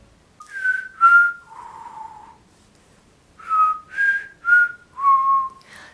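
Someone whistles a short melodic tune alone, a few clear notes, a pause, then several more bright notes in a steady phrase.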